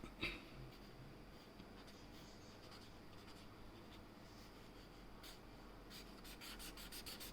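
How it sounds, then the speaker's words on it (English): A paper stump blends graphite across a pencil portrait sketch, making a faint, continuous close-up rubbing and scratching with light stroke ticks throughout. "now I use the other end of the paper stump as I've used up the graphite"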